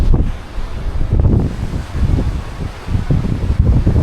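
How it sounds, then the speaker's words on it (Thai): A strong, cold wind of about six degrees blasts across the open deck of a cruise ship on the sea near Alaska. It buffets the microphone with loud, continuous, gusting roar and rumble, and no one speaks. "แล้วก็ลมมันค่อนข้างจะแรงครับ"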